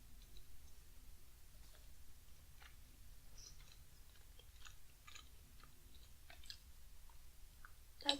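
Someone chews sausage, fried potatoes, mango and pineapple up close, giving soft wet chews and small clicks in a steady irregular rhythm. The room is quiet apart from a sharper tick near the end.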